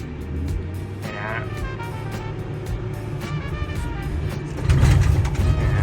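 Komatsu WA380-6 wheel loader engine idling steadily while the arm hydraulics are tested, with a louder rise in engine load near the end.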